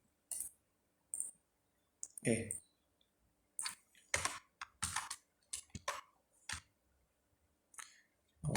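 Someone types a telnet command on a computer keyboard in a quiet room, producing irregular bursts of key clicks and clacks with gaps between them, close and fairly crisp.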